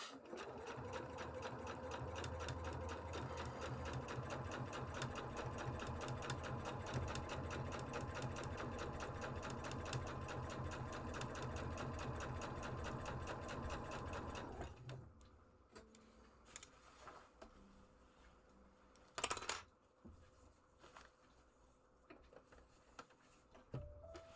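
A sewing machine stitches underwear in a rapid, steady mechanical rattle that runs close and continuous for about fifteen seconds, then stops, leaving quiet with a few scattered clicks and a brief louder knock.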